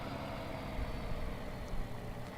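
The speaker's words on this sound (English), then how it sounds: "Engine sounds are realistic." Truck engine idling in the Farming Simulator 19 video game, a low steady rumble with slight uneven pulsing, continuous and fairly quiet with no voices.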